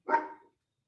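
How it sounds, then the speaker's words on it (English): One short, loud bark from a big dog as the front door opens, alone with silence after it. "when he opens the door, Bo, my big dog, might bark"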